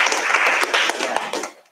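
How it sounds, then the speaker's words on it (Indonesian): A class doing a spirit clap, a quick burst of many hands clapping together in a rough rhythm for under two seconds, close and loud, then cut off. "tepuk semangat dulu ya"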